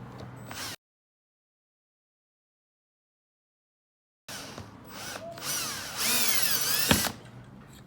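A power drill bores into wood while working on an antique vertical-rod wardrobe lock, starting with a short burst, going silent, then returning in rising whines that build into a loud, sustained run with pitch sweeps.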